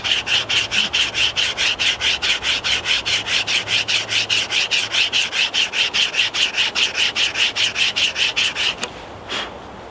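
A folding hand saw cuts through wood in fast, regular rasping back-and-forth strokes, about thirty loud even strokes close up before the sawing stops with a final scrape.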